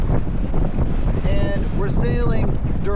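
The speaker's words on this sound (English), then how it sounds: "we're sailing directly into the wind" A sailboat beating into 25-knot gusting wind with 2 to 3 foot seas: loud buffeting wind roar and rushing water, with a voice speaking briefly over it.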